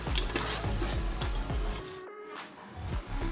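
Palak gosht of beef and spinach being stir-fried bhuna-style in a pot: a ladle scrapes and stirs in a few regular strokes over a soft sizzle, close and fairly quiet, then briefly drops nearly to silence.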